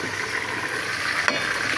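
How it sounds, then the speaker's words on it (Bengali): Chicken pieces for roast fry in hot oil, a steady close sizzle with faint bubbling and one brief sharp crackle near the end, no speech. "এইখানে এই যে রোস্টের জন্য মুরগিগুলো ভাজা হচ্ছে"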